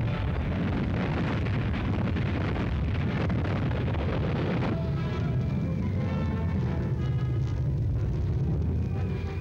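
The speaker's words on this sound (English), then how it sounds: "There go the oil tanks" Oil tanks blowing up and burning during a wartime British commando raid on Vågsøy and Måløy, Norway: a loud, continuous roaring rumble of fire and blasts, with a sharp shift in texture midway and no talk.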